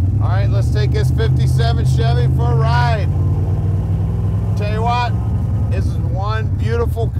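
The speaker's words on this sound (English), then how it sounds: "This is what a 57 Chevy should sound like." A 1957 Chevrolet Bel Air with a big V8 and aftermarket exhaust rumbles steadily while driving, a low continuous engine drone under someone talking.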